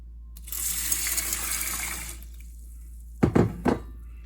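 Farro grains and water swished around inside a cooking pot for solar cooking, giving a sustained watery rattling slosh for about a second and a half, then a few sharper clunks near the end.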